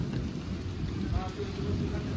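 Steady patter of rain falling outdoors, a continuous wash of drops with some faint background noise and low rumble.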